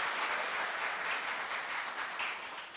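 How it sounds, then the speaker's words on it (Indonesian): Audience applause at an Indonesian Tiens business seminar, a dense steady wash of many hands clapping in a hall, fading slightly toward the end. "Tepuk tangan buat Anda dulu ya"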